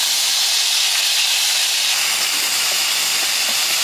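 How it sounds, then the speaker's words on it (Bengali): Cumin and ginger paste frying in hot mustard oil in a village kitchen wok, a loud, steady sizzling hiss that holds without break and sounds alone. "জিরে আদাটা হালকা ভেজে নিলাম"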